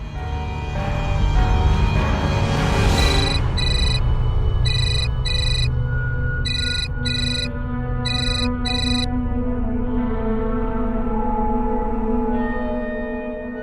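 An electronic ringtone plays a repeating melodic pattern of bright beeps in short bursts, loud and close, continuing for several seconds.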